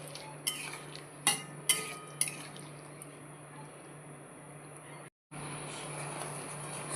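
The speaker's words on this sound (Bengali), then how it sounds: "দিয়ে ভালো করে এবার নাড়িয়ে দেব" Fried spiny gourd (kakrol) is stirred into a simmering milk curry in a pan. A metal spoon clinks against the pan four times early on, followed by a soft, steady bubbling hiss, with no one speaking.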